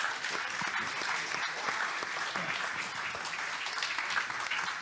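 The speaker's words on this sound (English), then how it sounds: "please give them a round of applause" Conference attendees at a European economic integration meeting applaud the speakers, a steady, full clapping from a sizable hall with a few sharper individual claps standing out.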